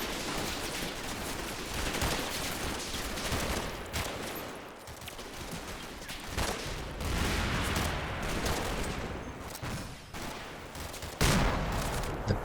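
Sustained gunfire in a Combat Mission World War II game battle, as ambushers in a building open up: dense, overlapping bursts of rifle and machine-gun fire that roll on continuously with loud, crowded cracks.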